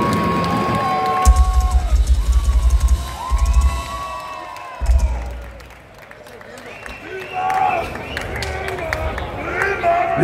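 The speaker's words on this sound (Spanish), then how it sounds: "por favor, un aplauso para ella" A concert audience cheers, whoops and applauds for a guest singer, with shouting voices rising over the crowd noise and heavy low thumps; a person also talks through the noise.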